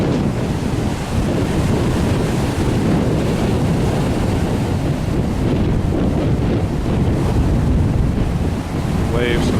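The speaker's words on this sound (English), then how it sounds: "Waves for the most part, pretty big." Big surf driven by Hurricane Earl on a beach at Sosua, Dominican Republic: continuous roaring waves and heavy wind buffeting the microphone, loud and unbroken throughout.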